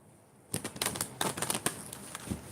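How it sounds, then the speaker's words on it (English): A deck of large cards being shuffled by hand, a quick burst of crisp riffling flicks and slaps close up, starting after a quiet moment and trailing off into a few soft taps. "I'm just gonna shuffle these like 3 times."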